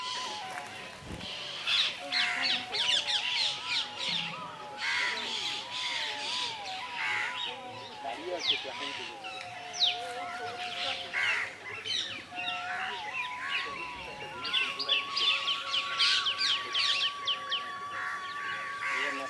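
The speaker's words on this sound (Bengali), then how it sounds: "হ্যাঁ, সব চাইতে শান্তি হলো ব্রজে। কত পাখির ডাক, কি বলছে পাখিগুলো আমাকে দেখুন।" Crows and other birds caw, squawk and chirp repeatedly from trees in Vrindavan, several calls overlapping at close to moderate distance over a steady outdoor background.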